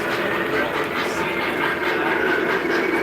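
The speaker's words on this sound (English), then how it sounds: "I can't really hear you over the trains" Continuous rumbling roar of running model trains, steady and fairly loud, with a faint rhythmic clatter throughout.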